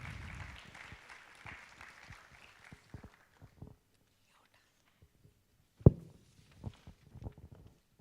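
Applause at an inauguration ceremony greets the founder and executive director of VHMI, starting moderately and fading out within a few seconds, followed by near silence with scattered soft knocks and shuffles.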